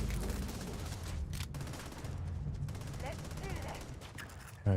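Rapid bursts of gunfire in Starfield: Shattered Space, with sustained rattling volleys and a few sharp reports mixed with game effects, with someone talking in places over the shooting.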